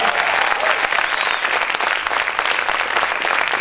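A church congregation claps loudly and energetically in praise, a dense, continuous burst of many hands applauding together, strong and steady throughout with no talk heard over it.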